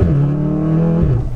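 A 600 bhp Volkswagen Golf R engine revs loudly and close, a steady deep harmonic roar holding pitch before dropping briefly near the end, with no talk over it.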